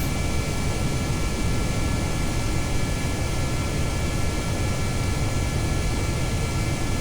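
Steady broadband roar of a plane engine in Kerbal Space Program, a loud, continuous, even drone with a thin high whine on top and no speech over it.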